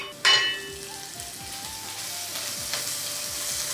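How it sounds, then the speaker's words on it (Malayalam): Ginger and green chilies sizzle steadily in a hot pan, a continuous crackling fry with a louder burst as the chilies drop in, then settling into an even hiss close by. "ഇഞ്ചി ഒരു ബ്രൗൺ കളർ ആവുന്നത് വരെ നമുക്കൊന്ന് ഫ്രൈ ചെയ്ത് എടുക്കാം."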